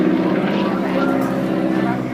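An AT-6 Texan propeller airplane rolling low along an airshow line: a loud, steady engine and propeller drone held close throughout, with a voice faintly underneath.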